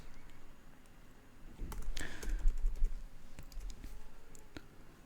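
Close keystrokes clatter on a computer keyboard while Python code is entered, with a quick cluster of taps in the middle and scattered clicks before and after.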